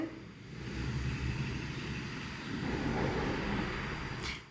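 Cars pass outside as a faint, distant hiss of traffic, swelling gently and fading, with a brief brighter whoosh near the end; no talking.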